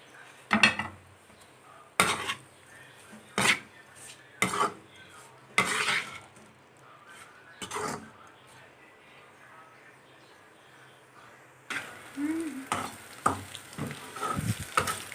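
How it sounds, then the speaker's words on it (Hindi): Chicken and vegetables seasoned with black pepper and salt are stir-fried in a pan, heard as sharp, irregular clatters of a spoon against the metal over a faint low sizzle, with loud bursts spaced a second or two apart. "ये हमने हल्के से इसको फ्राई कर लिया।"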